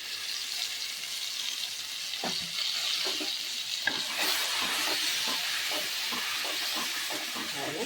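Steady, close sizzling of a ground paste frying in a pan for cauliflower gravy, with soft scraping and tapping from a spoon stirring at irregular intervals throughout.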